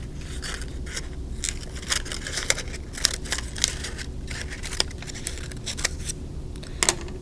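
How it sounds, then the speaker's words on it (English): Scissors snip through a paper cupcake liner for a craft, giving a series of quick, crisp cuts and light paper crinkles, close and fairly quiet over a steady low background hum. "you're going to take your single cupcake liner of a different color and you're just going to cut it in half"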